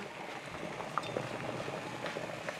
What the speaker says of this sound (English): I'm going to put it here in this boiling water